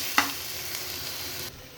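Jute greens being stir-fried in a pan, a steady close sizzle broken by a sharp scrape of the spatula near the start and a dip before a fresh burst of frying at the end.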